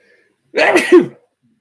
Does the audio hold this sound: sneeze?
yes